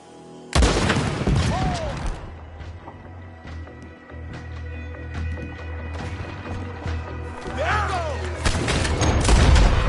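Gunfire in Red Dead Redemption 2 erupts abruptly into a loud, chaotic fusillade of overlapping shots and booms, eases into scattered cracks and ricochets, then builds again into another heavy barrage near the end.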